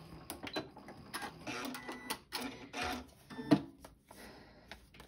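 Sewing machine stitching through paper at a very short stitch length, 1.5, heard as rapid mechanical bursts of stitching broken by brief pauses, fairly close and moderately loud.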